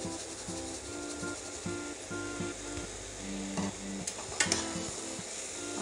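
Gajar halwa of grated carrot and sugar in ghee being stirred in a pan, a steady sizzle with repeated scraping strokes of the spoon in an even rhythm, close and fairly quiet.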